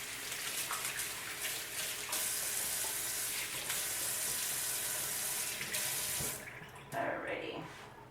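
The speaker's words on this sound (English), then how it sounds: "just wash my hands real quick" Hands being washed under a running kitchen tap in a home kitchen while cooking, a steady rush of water with splashing and rubbing, ending as the tap shuts off.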